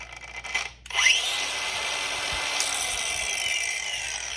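Milwaukee M18 Fuel 4 1/2 inch angle grinder running on a small battery: a brief click and spin-up, then a steady, high-pitched whine held alone at close range.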